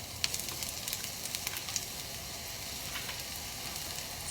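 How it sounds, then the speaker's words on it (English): Onions frying in hot oil in a pan give a soft, steady sizzle with scattered faint crackles and pops, quiet and continuous with no talking. "Alrighty, oil's hot. Cool. Onions going in."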